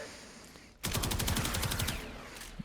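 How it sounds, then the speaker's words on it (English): A Kuva Karak assault rifle in Warframe fires a rapid automatic burst of about a dozen close, loud shots that ends in a short ringing tail. "am just shooting him in the leg, to be fair"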